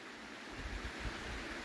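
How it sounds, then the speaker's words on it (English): A mountain creek on Ice House Canyon Trail in the San Gabriel Mountains in late June, heard as a steady, quiet wash of flowing water with some wind noise. "There's still water in the creek"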